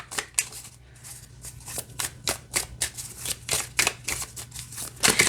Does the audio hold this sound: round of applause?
no